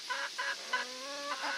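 Backyard hens cluck near an automatic coop door, several short repeated squawking calls in quick succession, close and clear with no talk.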